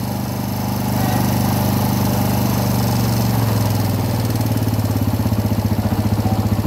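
A Suzuki Thunder 125 motorcycle engine, stalled and troubleshot, catches and runs nearby, its low throb growing louder and settling into a steady, pulsing idle.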